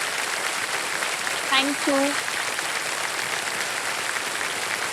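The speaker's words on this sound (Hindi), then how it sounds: "एक बार फिर जोरदार तालियों के साथ इनका स्वागत करते हैं" Studio audience on the quiz show Kaun Banega Crorepati applauds to welcome a contestant, a steady wash of clapping throughout while a voice briefly speaks over it.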